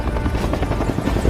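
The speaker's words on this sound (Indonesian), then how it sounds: "para rombongan ekspedisi pun akhirnya berangkat menggunakan helikopter" A helicopter carrying an expedition flies into a storm, its dense rotor thump and engine roar loud and close, filling the whole moment without voices.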